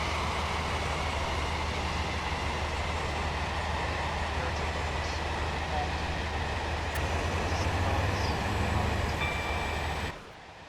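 A train pulling out in the Roblox game Stepford County Railway, a steady loud rumble of wheels and motor running continuously before dropping off abruptly near the end.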